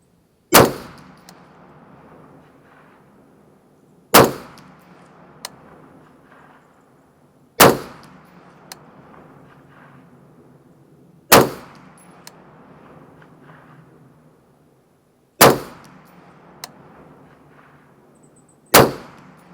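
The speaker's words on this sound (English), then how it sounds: "I'm just going to fire rather quickly. And here we go with the Mark 262." An AR-15 fires 5.56 Mark 262 77-grain ammunition outdoors, six loud sharp rifle shots spaced a few seconds apart, each ringing out with a short echoing tail.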